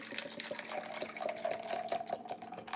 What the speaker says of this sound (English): I'm just pouring some of this milk tea